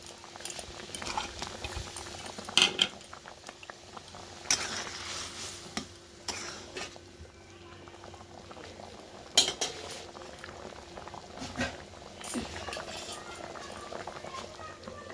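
A spoon stirs cashews and raisins into basanti pulao cooking in a pot, giving soft scrapes and a few sharp clinks against the metal over a faint, steady bubbling simmer. The sounds are quiet and close, with no talking.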